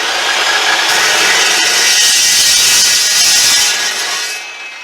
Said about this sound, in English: we're going to cut our steel to 36 inches